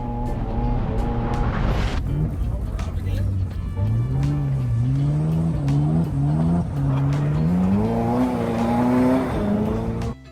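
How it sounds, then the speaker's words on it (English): A Ferrari F40 drifts on snow and ice, its engine loud and close as revs climb and fall in repeated surges, with tire squeal and skidding and a sudden burst of noise near the start. "Like this guy drifting in F40 on some snow and ice."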